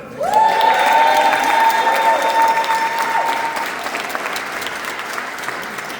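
Loud applause from a large crowd, with whoops and a sustained whistle riding on top, gradually thinning out.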